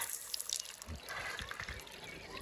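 Water trickling and dribbling out at a house under construction, faint irregular splashes and drips at close range, with no voices.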